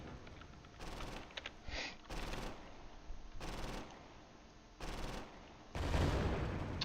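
Bursts of mortar and gunfire in the WWII strategy game Close Combat, set near Kharkov, come in several separate salvos of dense crackling explosions spaced a second or so apart, the last one loudest.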